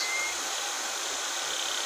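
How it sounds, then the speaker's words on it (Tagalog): A hair blower dries a pet bird named Rubino after its bath, a steady close, airy hiss with a faint whine and no break in the flow. "Mag-blower na si Rubino."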